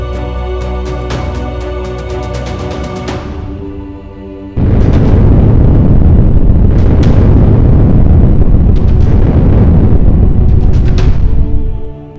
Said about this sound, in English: that's how you're gonna feel when these spoons explode on you